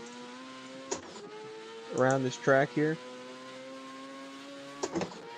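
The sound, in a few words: race car engine revving in Assetto Corsa video game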